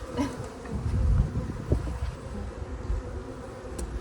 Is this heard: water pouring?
no